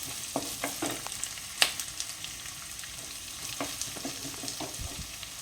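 Two sliced onions stirred and frying in a pan for mutton gravy, a gentle continuous sizzle with repeated scraping and clinking strokes of a spoon, one sharper clack standing out.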